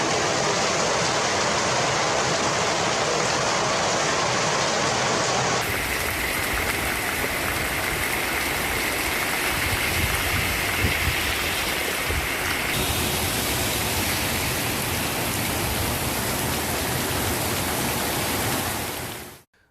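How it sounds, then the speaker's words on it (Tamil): Heavy early-morning rain with gusty wind roars as a dense, continuous wash of noise, loud and close. Its texture shifts a couple of times, then it cuts off abruptly at the end, with no voices. "அதிகாலை சூறைக்காற்றுடன் கனமழை பெய்தது"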